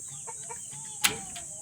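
Black Australorp breeder hens on a backyard farm cluck softly in a few brief calls, with one sharper squawk near the end over faint background noise.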